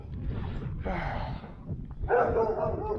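A dog barking on a suburban walk near Clifton Beach, a few bursts of barks separated by short gaps, moderately close, with some background noise between them.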